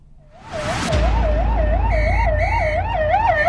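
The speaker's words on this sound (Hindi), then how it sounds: "पुलिस की गाड़ी वार्ड के अंदर तक पहुंच गई" Wailing police vehicle siren sounding inside a hospital ward, loud and close, rising and falling in a steady cycle, joined partway through by a second higher warbling tone over a low engine rumble.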